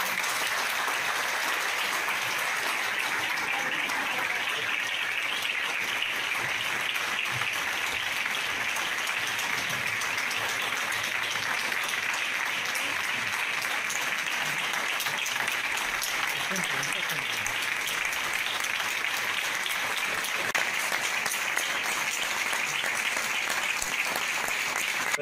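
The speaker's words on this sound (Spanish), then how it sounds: "Un aplauso." Sustained applause from a studio audience honouring a lifelong shellfish gatherer with an award, a dense, even wash of clapping that carries on for a long stretch.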